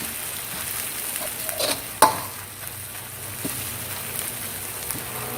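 Pounded Thai curry paste sizzles softly in hot oil over medium heat in a wok for basil chicken wings, with a steady low crackle and a sharp scrape of the spatula partway through.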